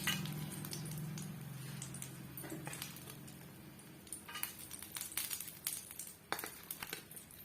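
Fried snake gourd snacks are lifted from the pan onto a plate, giving a run of light metallic clinks and scrapes that start faintly and grow busier, close by and without talk.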